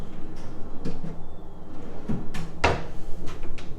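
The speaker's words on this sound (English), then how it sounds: "You do have some pull-out drawers with some cooking utensils." Pull-out kitchen drawers holding cooking utensils in a villa kitchen slide and bump shut, giving a few soft scrapes and then a sharp, close knock, with quiet room tone between them.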